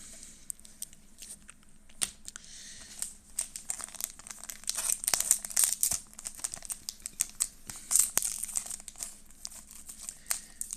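A Riftbound trading card booster pack wrapper is worked open at close range in a League of Legends pack opening. Bursts of crinkling and tearing plastic come in irregular, rising clusters over several seconds.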